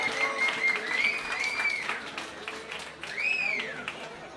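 Concert audience applauding, a dense steady wash of clapping with people talking and calling out over it throughout.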